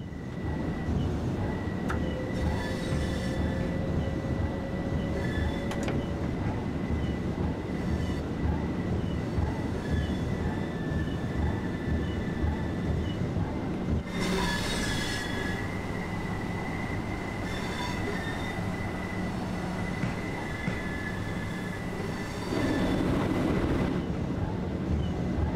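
Class 377/4 electric multiple unit running between Lewes and Brighton in Train Sim World 4, a steady rumbling rail hum with rising motor whine and faint wheel squeals, continuous and fairly loud throughout.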